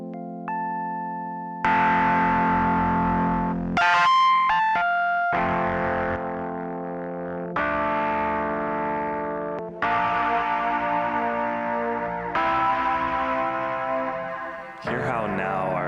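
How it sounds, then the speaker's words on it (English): Heavily distorted guitar through an OBNE pedal spread across a stereo field, with sustained chords and notes in blocks that stop and restart, giving a wide, modulated, reverberant texture with no talk. "Hear how now our intense distortion is spread out into that stereo field"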